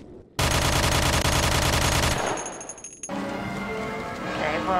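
Pistol shots ring out in a virtual reality shooter demo: a fast, loud run of rapid gunfire for about two seconds, then a metallic ring and quieter game sounds with muffled voices.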